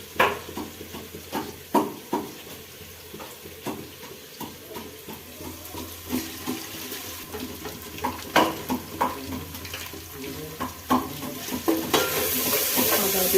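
Onions sizzle in a pan while a spoon stirs and scrapes them in repeated, uneven strokes, the frying steady and close, just before ginger and garlic paste go in for a home-cooked Bengali lunch.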